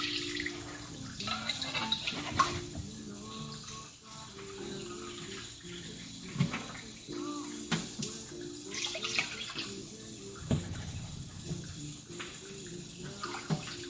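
Water poured into a pot of rice, a running splash and trickle that rises and falls in several bursts, close and fairly clear.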